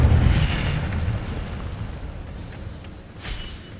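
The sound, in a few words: Incendio fire spell in the video game Hogwarts Legacy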